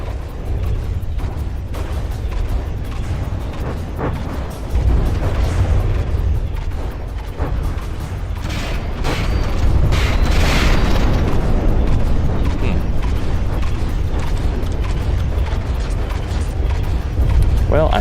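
Heavy, continuous rumbling blasts from missile explosions in a video game, a dense low roar that swells louder midway and holds, with speech faintly present underneath.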